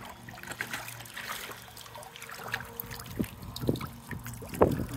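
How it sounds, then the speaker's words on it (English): Water drips from a crack in the corner of a spa: a few faint separate drips against a low background hiss, spaced irregularly and growing slightly clearer toward the end. "See how the water is still dripping out."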